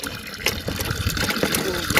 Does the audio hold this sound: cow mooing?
no